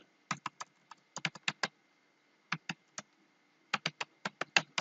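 Crisp keystrokes on a computer keyboard while C code with a printf line is entered, coming in quick clustered bursts separated by short pauses, close and clear against a quiet room.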